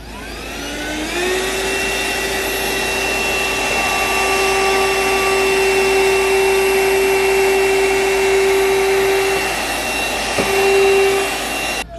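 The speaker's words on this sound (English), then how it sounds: "We're gonna see how well the vacuum picks it up." A Vaclife cordless vacuum cleaner starts up and runs with a steady high-pitched whine, close and loud, picking up burned debris, with a brief dip near the end.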